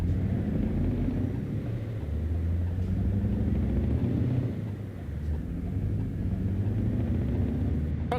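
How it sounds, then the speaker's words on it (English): A truck engine drones with a steady low rumble, loud and close, rising and falling slightly in waves without picking up speed; no voices over it. "Truck makes a lot of noise, but it doesn't seem to go anywhere fast."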